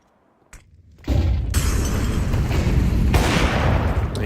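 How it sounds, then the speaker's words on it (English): Grenades detonating across the map in Counter-Strike 2 during a PGL Major Copenhagen 2024 match: a sharp blast, then a dense, sustained roar of overlapping explosions like a fireworks barrage, loud and continuous. "Just nades going off all across the map"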